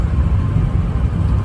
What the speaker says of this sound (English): this truck does have all-terrain tires on it, so you get a little bit of noise off of those